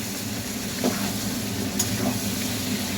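Boiled potatoes coated in spice masala fry in a pan with a dense, continuous sizzle at close range, with soft shifts as they are stirred.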